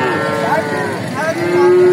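Loud, close mooing from a three-month-old Indian-breed calf at a rural cattle market in Bogura, a drawn-out bellow followed by a second sustained call over a low murmur of market noise.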